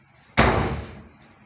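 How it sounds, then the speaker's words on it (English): A single door slams nearby with a sharp, loud bang that fades over about half a second in a quiet room. "that was the sound of the door"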